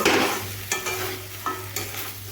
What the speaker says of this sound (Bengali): এইভাবে আমি নেড়ে নিচ্ছি